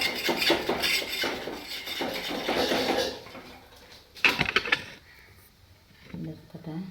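Ground paste being scraped out of a cooking pot, a rough rasping scrape repeated over several seconds that then stops, followed by a couple of short scrapes, close and fairly loud with a voice talking briefly.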